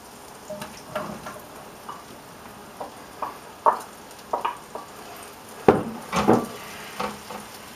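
Mushrooms sizzle and fry in a pan with butter for a meatloaf. There are intermittent crackling pops and a few stirring scrapes against the pan, close and clear with no talking.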